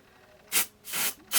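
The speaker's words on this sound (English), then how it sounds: "Just shake the bottle real good and spray." Blonde hair colour spray hissing from a shaken aerosol can in three short close bursts, each about a quarter second, with quiet gaps between.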